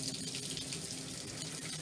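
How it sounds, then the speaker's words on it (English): Diluted white vinegar mixed with cold water being splashed and sloshed over wet wool felt for a 3D felted bowl, a soft, steady watery wash heard up close and faint. "Vinegar diluted with some cold water, and give it a good sploshing in"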